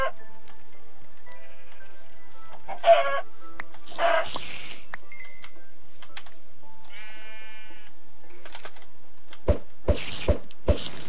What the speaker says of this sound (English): I'm gonna go for the chickens here.